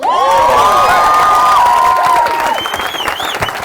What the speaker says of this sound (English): Let's just get a round of applause for how amazing Nisha looks tonight.